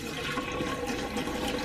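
Liquid pours steadily down a camper's sink drain into the trap and gray tank during winterizing, a continuous rushing, gurgling flow that is close and fairly loud, with no talking.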